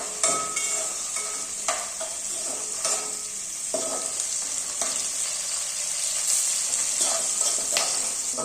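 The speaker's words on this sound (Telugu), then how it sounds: "నేను పచ్చిమిర్చి ఫ్రై చేస్తున్నాను ఫస్ట్." Green chillies fry in hot oil in a pan with a steady, close sizzle and crackle, broken by occasional stirring scrapes throughout.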